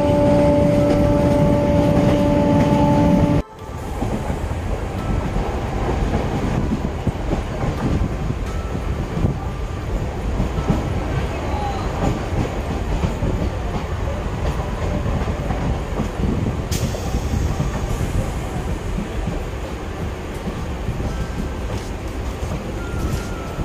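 Siuri–Sealdah MEMU electric multiple-unit train running steadily after leaving Dubrajpur station, a continuous loud rolling rumble with wheel noise throughout, following a brief tonal hum at the start.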